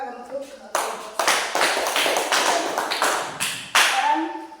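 A classroom of students claps for a presenting group, a burst of loud, fast overlapping handclaps after a brief murmur of voices, fading toward the end.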